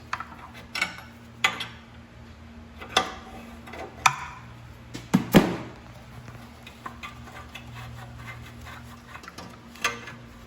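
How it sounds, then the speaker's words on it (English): A 22mm wrench breaks loose the upper O2 sensor on a Fiat 500 Abarth during a turbo and exhaust manifold install, giving sparse, irregular metallic clicks and ticks close by with no talking. "next we're gonna remove the upper O2 sensor. Takes a 22mm wrench to break it loose"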